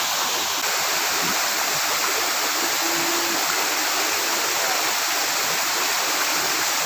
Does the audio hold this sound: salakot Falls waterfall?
yes